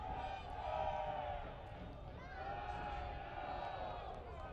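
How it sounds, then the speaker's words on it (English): A soccer crowd at a Rochester Rhinos USL match against Orlando City B, supporters groups chanting and cheering in a sustained, swelling roar that rises and falls, with voices blended into the distant stadium noise. "The Rhinos crowd getting into it, led by the Oak Street Brigade and Flower City Stampede"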